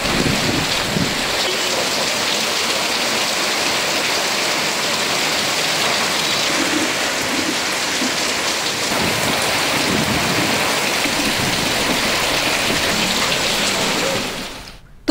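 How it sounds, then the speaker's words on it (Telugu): Heavy rain pours steadily in Rajahmundry, East Godavari district, a dense, loud, unbroken wash of drops on surfaces that holds evenly before cutting off abruptly at the end, with no voices. "తూర్పుగోదావరి జిల్లా రాజమండ్రిలో భారీ వర్షం కురిసింది."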